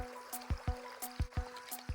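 Mountain stream water in Fall Creek Falls State Park, Tennessee, trickles and dribbles while being collected, with quiet repeated low splashy knocks roughly every half second under a constant soft flow.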